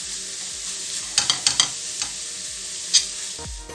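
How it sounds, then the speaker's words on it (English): Coconut milk simmers and sizzles in a pan with cooked tomato leaves, a steady hiss broken by a few sharp pops and spatters. "Poured in my coconut milk."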